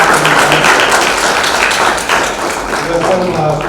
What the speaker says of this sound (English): let's have a round of applause for Guru here